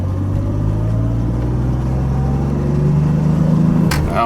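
Inside a DeLorean fitted with Dynamat sound deadening, a steady low road and engine rumble fills the cabin while driving, smooth and even, rising slightly toward the end before a brief knock.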